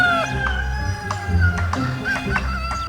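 Free-ranging chickens, including white males and local birds mixed together, crow and cluck in an early-morning poultry enclosure on a farm, with overlapping calls near and far over steady background noise.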